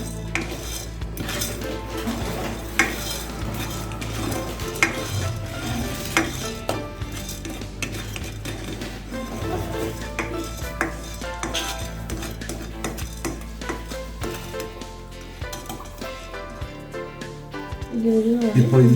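Spices dry-roasted without oil in a pan over high flame as the cook makes puliyogare paste, with busy scraping and clattering of a metal spoon against the pan and faint sizzling throughout.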